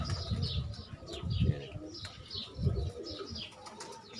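Pigeons on a rooftop coo in low, throaty bursts that repeat every second or so, close by, with light chirps and a brief flutter of wings around them.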